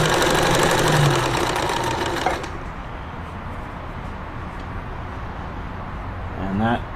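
Necchi 525FA sewing machine running a zigzag stitch, a fast close mechanical whir and rattle for about two seconds before it winds down to a quieter hum, then a short final burst.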